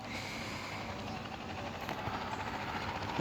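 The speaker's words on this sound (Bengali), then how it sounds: "তো গাইস হেলিকপ্টারটা একটু উড়ানো যাক।" A video game helicopter's continuous dense engine roar with rapid rotor chopping, loud and steady throughout, with no talking.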